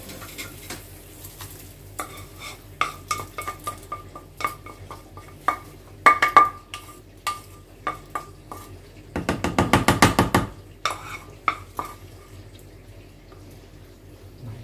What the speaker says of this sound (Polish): I po zalaniu śmietanką dodaję to wszystko do gorącego bulionu